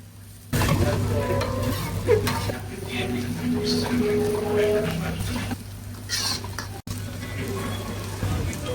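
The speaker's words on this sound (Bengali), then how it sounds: "পেঁয়াজটা একেবারে নরম হয়ে যাবে এবং ভুনার যে আগের মুহূর্ত এই মুহূর্ত পর্যন্ত ভালো করে ভুনে নিতে হবে" Onions frying in oil in a pan while being stirred, a steady loud sizzle with scraping stir strokes throughout, preparing a braised brain dish in restaurant cook style.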